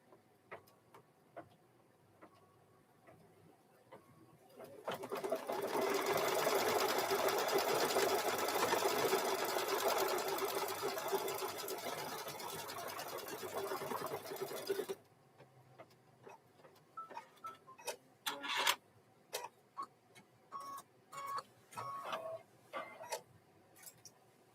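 An embroidery machine stitching out a design on a hooped hoodie, with a loud, dense run of rapid needle stitching lasting about ten seconds, followed by scattered clicks and handling noises close by.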